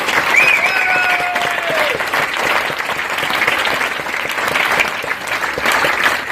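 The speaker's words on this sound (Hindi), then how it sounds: "If you are seeing yourself on the stage, clap as hard as you can today." An audience at an Amway stage event applauds loudly and continuously, dense clapping filling the hall with a faint voice or whistle over it.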